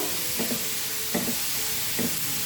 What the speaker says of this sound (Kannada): ಇವಾಗ ಅದೇ ಪ್ಯಾನ್ಗೆ ನಾಲ್ಕು ಟೊಮೊಟೊನ ಕಟ್ ಮಾಡಿ ಸೇರಿಸ್ಕೊಳ್ತಾ ಇದ್ದೀನಿ ಇದನ್ನು ಚೆನ್ನಾಗಿ ಫ್ರೈ ಮಾಡ್ಕೊಬೇಕು